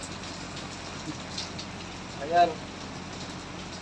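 Afternoon rain falling aboard a ship, a soft steady hiss of drops with a brief louder burst midway and a short spoken word.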